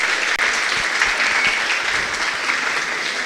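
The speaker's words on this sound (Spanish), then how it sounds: "Un aplauso para ellos" Steady applause from an audience at a philosophy congress, sustained and fairly loud throughout, with no voices over it.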